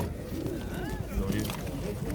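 Pigeons coo amid the bustle of an outdoor pigeon market in Radom, Poland, with low murmuring calls under constant crowd chatter and nearby talking.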